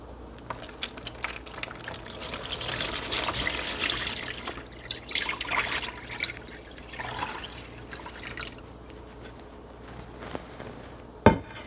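Cheese brine poured into a container for a homemade Camembert-style cheese, a soft steady trickle and splash of liquid running for several seconds at close range, ending with a sharp knock.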